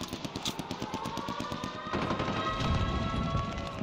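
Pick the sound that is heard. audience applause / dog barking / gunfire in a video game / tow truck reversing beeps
gunfire in a video game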